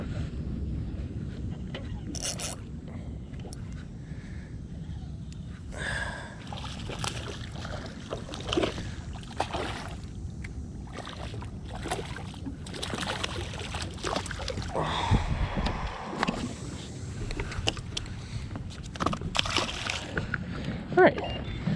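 Small fishing boat cruising past inshore islands, with steady low water rumble and sloshing splashes throughout, a voice talking over it at times.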